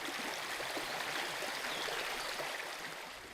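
Sucker Brook flows at the Hubbardton battlefield, a soft, steady rushing babble of stream water heard alone and at a moderate distance, with no voices.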